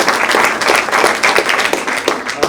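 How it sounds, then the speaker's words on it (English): An audience at an environmental symposium on farm regulations applauds, many hands clapping in a dense, fairly loud patter that continues steadily throughout. "Let's start with a round of applause to get some energy in the room."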